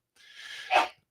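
A single short sneeze, preceded by a quick intake of breath and ending in a sharp burst, fairly quiet in a live radio studio.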